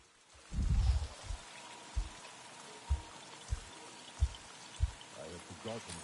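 Rain in a video game, a soft steady wash of falling water with a heavier splashing pour near the start and several dull thuds spaced through it.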